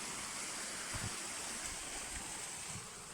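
Water runs down the channel of an old stone mill in rural Portugal, a steady broadband rush and hiss carrying on without break, with a few soft low thumps underneath.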